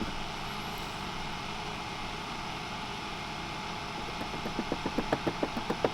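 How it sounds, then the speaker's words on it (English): A steady run of sharp hammer blows driving nails into wood on a lean-to shed build picks up partway through, about eight quick, evenly spaced strikes over a low background hum. "here I'm just hammering in a couple that I aimed poorly"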